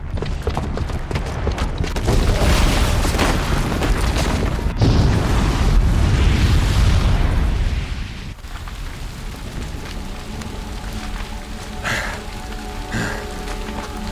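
A booby-trapped bomb detonating in Horizon Zero Dawn sends up a loud, rumbling roar that stays dense and heavy for about eight seconds, then breaks off abruptly. A quieter crackling, rain-like wash follows with a few faint sharp accents.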